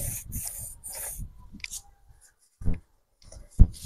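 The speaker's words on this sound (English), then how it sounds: "Let me use my pencil to do that." A pencil draws lines on paper while a fitted trouser pattern is being drafted, giving a few close, scratchy strokes in quick succession, then quiet, with a brief rustle and a sharp tap near the end.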